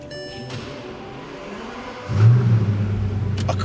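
A Bentley Continental GT with a dead battery cranks and fires up after a jump start, its engine catching with a deep rumble and settling into a steady, close idle-rev after quiet whirring.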